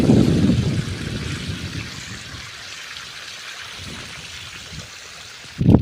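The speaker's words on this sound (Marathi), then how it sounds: "पाणी पाणी चालू केलं मकाला" Irrigation water pumped by a motor through a pipe gushes and trickles into a farm field of maize, a soft, steady rushing flow heard close up, loudest at the start and with a brief burst at the end.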